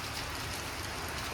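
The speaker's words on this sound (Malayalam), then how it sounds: "മഴയാണ് ഗൈസ്" Rain falls as a steady, dense broadband patter, neither near nor heavy, with no voices and no other sounds over it.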